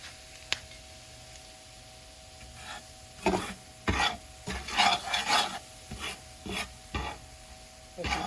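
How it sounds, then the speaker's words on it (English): A big spoon stirs a flour mixture inside a container, making a series of close, rhythmic scraping strokes that start after a few quiet seconds and continue in uneven bursts. "I just kind of do 1 spoon and get it mixed around."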